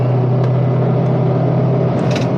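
A kei camping car engine accelerating hard up a steep expressway grade, heard as a steady, loud droning hum that holds level without a break and with no talk over it.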